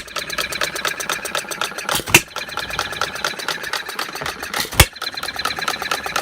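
A half-scale Breisch Olds hit-and-miss gas model engine runs in a steady, rapid mechanical chatter, with two sharp firing bangs standing out as it coasts between power strokes, heard close and alone.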